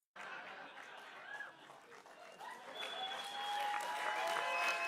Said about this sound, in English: Begged for that applause break.